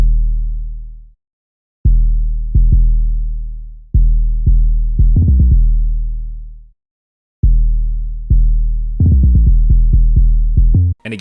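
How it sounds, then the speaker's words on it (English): Deep, booming 808 bass notes from the classic Spins 808 play a sparse pattern, each long and decaying, with some notes sliding in pitch and quicker bursts near the end. "So here's the first 808 pattern in this beat."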